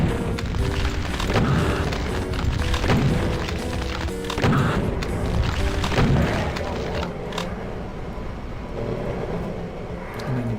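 Heavy booming blasts and gunshots from the shooter game GZDoom, loud rolling explosions and crashes layered over a constant rumble, fading somewhat toward the end.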